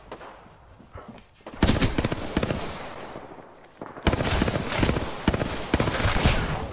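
Shotgun fire in the Apex Legends video game: heavy, booming blasts in separate loud bursts after a quieter start, each blast close and sharp, with several rapid reports clustered together.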